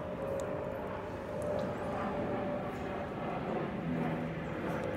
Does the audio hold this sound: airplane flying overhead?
yes